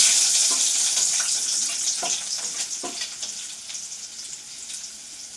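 Garlic, ginger and green chilies sizzle in coconut oil with popped mustard seeds, a bright, hissing fry close by that slowly fades in loudness, broken by a few soft stirring knocks.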